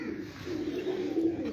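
Low, soft cooing from young pigeons on a rooftop, a steady murmuring drone that carries on throughout with no talking.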